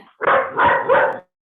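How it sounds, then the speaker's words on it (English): A dog barks three times in quick succession, loud and close, each bark full and throaty, then silence. "That's our dog"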